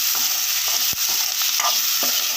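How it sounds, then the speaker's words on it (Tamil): Spices and turmeric sizzle in a hot pan under a steady hiss, with the scrape and occasional clink of a spoon stirring close by, while cooking an egg curry. "இந்த மாதிரி நல்லா வதக்கிடணும்"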